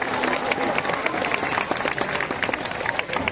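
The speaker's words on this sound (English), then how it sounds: "How about a big round of applause for our volunteer?" A crowd at a seal show at Taronga Zoo in Sydney applauds a volunteer with dense, energetic outdoor clapping that runs continuously at close range throughout.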